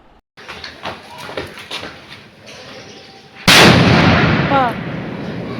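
Scattered crackles and pops, then a sharp loud blast followed by a sustained roaring hiss of Diwali firecrackers exploding close by.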